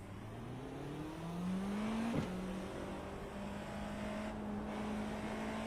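Porsche 963 GTP race car engine at Watkins Glen in iRacing, a steady droning tone that climbs and shifts pitch through gear changes, loud and continuous with no voices.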